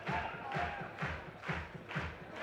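Crowd at an IFSC Bouldering World Cup final in Innsbruck roars behind a climber, a dense wash of cheering that surges in a steady rhythm about twice a second, like chanting or rhythmic clapping.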